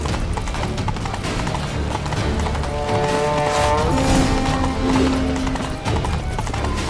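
Horse hooves clip-clop at a steady trot in The Witcher 3, close and clear over a busy bed of game ambience with other tonal effects, with no speech.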